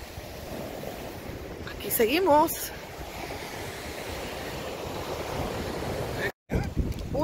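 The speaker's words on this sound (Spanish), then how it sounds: "Las olas del mar se acercan. El sonido es impresionante." Ocean waves crashing on the shore at Point Mugu State Park, a steady broad surf roar with wind across the microphone, while someone speaks briefly over it.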